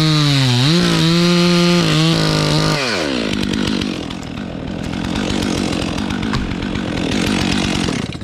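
A Stihl MS 400c chainsaw fitted with a 28-inch Oregon lightweight bar runs loud and close, revving up and down in several throttle blips before settling into a steady, rough running roar, with no talk.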